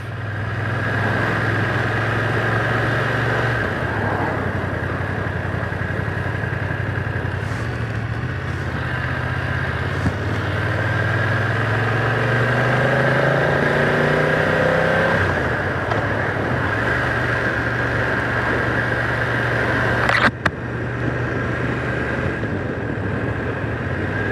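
A 2025 BMW F900R motorcycle engine hums steadily while riding, a continuous mid-pitched drone with a slight rise and fall in revs and wind noise, heard alone throughout.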